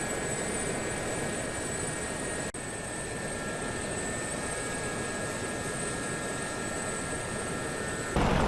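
A Gazelle helicopter flies in the DCS combat flight simulator, its steady turbine whine and rotor drone holding constant and moderately loud with no talk over it.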